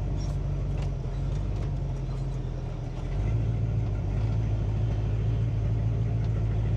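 A Chevrolet Impala's engine hums at a steady low rumble while the car is driven slowly out of a narrow lane, the tone deepening and growing slightly louder about halfway through.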